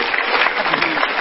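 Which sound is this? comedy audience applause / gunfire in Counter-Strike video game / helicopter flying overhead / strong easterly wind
comedy audience applause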